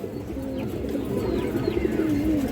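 Pigeons coo steadily at a pigeon farm where Indian High Flyer pigeons are kept, a continuous low throaty cooing from several birds close by with no talk over it.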